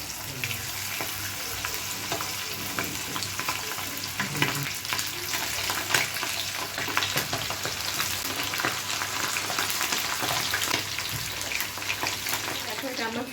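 Chicken wings fry in hot oil, a dense, continuous crackling sizzle heard up close, with occasional stirring scrapes and bubbling bursts throughout.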